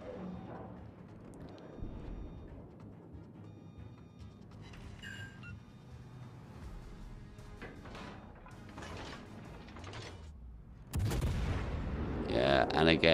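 Naval gunfire in World of Warships: Legends, with a salvo aimed at the destroyer Mahon, plays as a low rumbling game battle scene with scattered booms and crashes, swelling into a loud burst of heavy cannon fire near the end.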